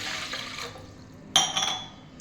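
Liquid pours briefly into a glass, a splashy broadband rush that fades, then a second sharper burst of pouring with a ringing glassy edge.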